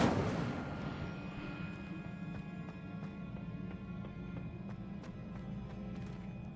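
Incendio fire spell cast in Hogwarts Legacy: a loud blast that fades into a sustained low roar of flame, with faint ticks over it.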